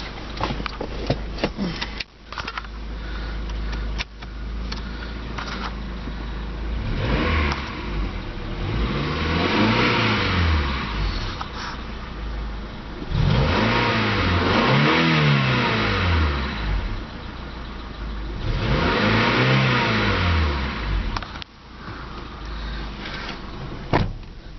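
A 1997 Honda Accord engine idling and then revved several times, each rev rising and falling smoothly, heard close up with a steady idle between the pushes.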